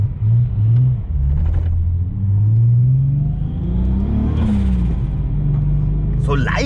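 A VW Bora V6 with a GT35 turbo revs and pulls under acceleration, its engine note rising steadily and droning close inside the cabin while someone talks over it throughout.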